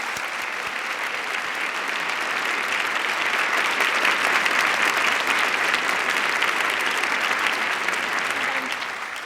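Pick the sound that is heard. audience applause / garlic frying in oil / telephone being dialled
audience applause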